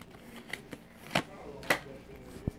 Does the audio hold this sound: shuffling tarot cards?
yes